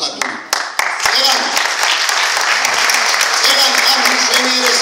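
Audience applause at an evening celebration in Dusheti: dense, steady clapping from a large crowd, a few sharp individual claps standing out at the start before the sound settles into a continuous wash.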